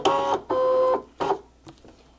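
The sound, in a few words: cutting mat being fed into a stencil cutting machine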